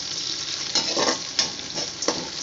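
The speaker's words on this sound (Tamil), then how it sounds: "இப்போ வந்து நம்ம பச்சை மிளகாயை போடணும்." Green chillies fry and are stirred in a hot pan while making semiya, giving a steady close sizzle broken by several scraping stirs, with no talk.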